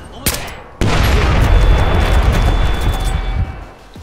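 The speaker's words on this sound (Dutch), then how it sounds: "Oh, dat is een ton. Die kan ik knallen. Die ontploft dan." An explosive barrel blows up in the stealth shooter Splinter Cell: Blacklist, a sharp crack followed by a loud, sustained roaring blast that rumbles for about three seconds before fading, with no talk over it.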